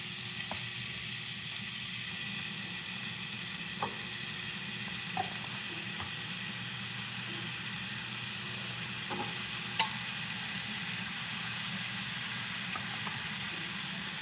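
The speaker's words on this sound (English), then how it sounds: "just add the rest of these pork chops to this griddle to kind of get a sear on them" Pork chops searing on a hot griddle give off a steady, quiet sizzle, with a few soft clicks and taps now and then.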